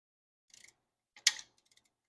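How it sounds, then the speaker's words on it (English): A torque wrench works the valve cover bolts on a 2004 Toyota Sienna: a quick run of faint ratchet clicks, then a sharp, louder click as it reaches setting, followed by a few tiny ticks in near silence. "that's torqued to 71 inch-pounds"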